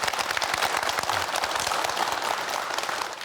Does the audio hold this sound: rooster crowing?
no